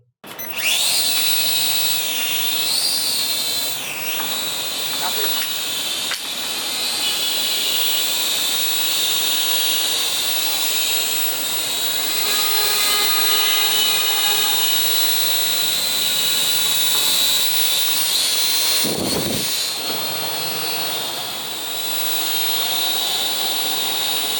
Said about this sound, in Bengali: তো এখন আমরা ড্রোনটিকে উড়িয়ে আপনাদের দেখাবো।